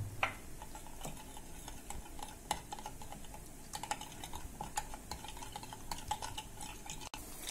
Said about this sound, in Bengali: একটা বাটিতে সামান্য একটু কর্নফ্লাওয়ার নিয়েছি এতে একটু জল অ্যাড করে কর্নফ্লাওয়ারটাকে গুলিয়ে নেব